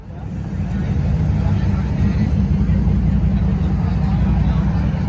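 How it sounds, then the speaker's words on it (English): A 1949 Mercury classic car rolls in at an evening car show outside a saloon in Maine, its low engine rumble building and holding steady, close and fairly loud, with people talking over it. "I think that's a 49 Mercury pulling in"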